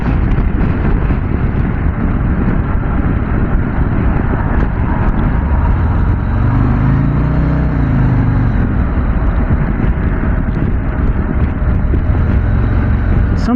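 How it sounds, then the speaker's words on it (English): Harley-Davidson Fat Boy motorcycle engine riding on the road, a steady dense rumble with a brief swelling rev partway through, loud and continuous with wind noise and some speech mixed in. "I love the sound of this engine, man."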